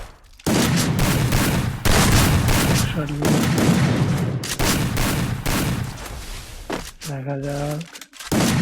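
Video game gunfire in rapid bursts of loud shots, with one player hunting for headshots, interspersed with short gaps and electronic effects, while someone talks over the action.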